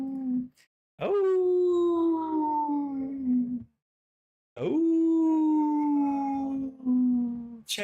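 A dog howls in two long drawn-out wails, each sliding slowly downward in pitch and separated by a short silence, close and loud with no talking over it.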